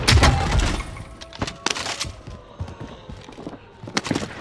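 A stun grenade goes off in a video game firefight: a loud crashing burst at the start, then scattered sharp cracks, shattering hits and dull thuds, with faint voices in the background.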